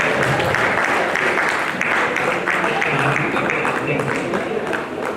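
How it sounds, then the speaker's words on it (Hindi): Vigorous audience clapping at a Kanpur honors ceremony for descendants of revolutionaries, continuous and loud with voices talking over it. "सभी लोग जोरदार तालियों से इनका स्वागत कीजिए"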